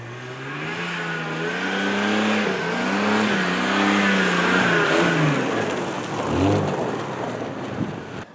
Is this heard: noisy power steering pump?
yes